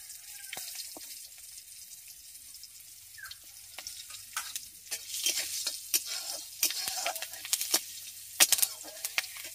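Cumin seeds and slit green chillies frying in oil for a village-style bottle gourd and prawn curry, a soft sizzle with intermittent stirring clicks and spoon scrapes that grow busier and louder toward the end.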